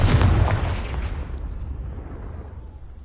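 Confringo fire spell in the video game Hogwarts Legacy, a single heavy explosive boom that hits hard at once and then rumbles away over about three seconds, with no voices.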